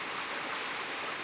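Heavy rain pours down steadily in a village, a dense, even hiss with no breaks and no voices.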